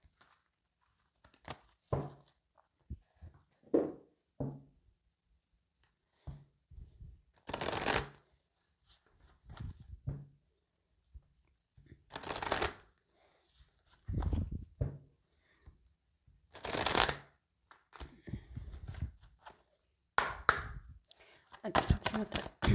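An oracle card deck is shuffled by hand in a quiet room, with repeated close riffling and slapping bursts of varying length and soft handling rustles between them.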